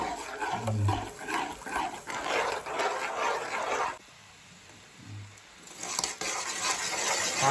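A spoon scrapes and churns a thick sesame, peanut and jaggery mixture in a pot, in repeated rough strokes with a short quiet pause midway.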